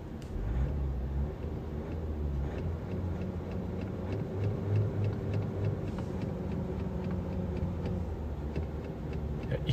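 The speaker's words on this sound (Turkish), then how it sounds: "Aracı mesela çalıştıralım şu anda." A 2021 Audi A4 40 TDI with a 2.0-litre 204 hp diesel engine runs steadily, its low rumble continuous with faint ticking, close and moderately loud, with no talk over it.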